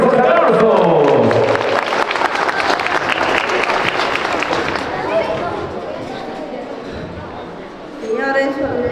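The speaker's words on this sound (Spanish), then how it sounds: "Vamos a motivarla con fortísimos aplausos. Señoras y señores, ¡fuertes los aplausos!" Loud, dense applause from family and guests at a wedding celebration, sustained for several seconds before fading, with voices and chatter mixed in toward the end.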